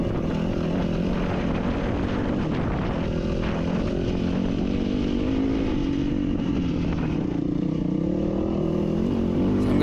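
An R-Max side-by-side off-road vehicle drives with a steady, loud engine drone and shifting pitch as it revs, rumbling continuously across the whole stretch without talk.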